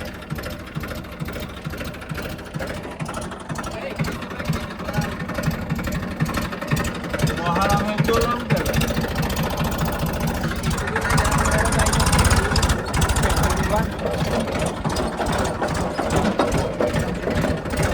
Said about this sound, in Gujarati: ટ્રેક્ટર લઈ જઈએ છે ને